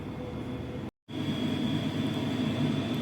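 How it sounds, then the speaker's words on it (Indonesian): A train passes somewhere nearby as a steady, broad rumble with a faint high whine, sustained throughout apart from a brief dropout near the start. "Nah itu di sana ada kereta api lewat."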